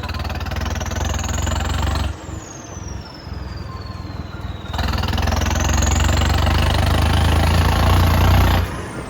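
A Swaraj tractor's diesel engine idles with a heavy low rumble, its turbo whistle rising and falling as the revs swell and drop, close and loud.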